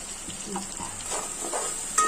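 Tomato masala sizzles steadily in a pan, seasoned with coriander powder and garam masala, giving a soft, even frying hiss with faint stirring underneath.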